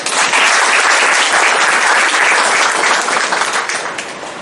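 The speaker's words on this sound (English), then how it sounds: "I need applause, please." Loud, dense applause from a large audience at an international academic seminar at a college of management, a continuous roar of many hands that holds steady and then begins to fade.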